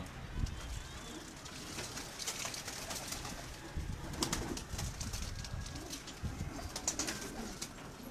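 Pigeons coo repeatedly around a rooftop loft in Gujranwala, soft low calls under a constant busy backdrop with occasional wing flutters, while someone speaks.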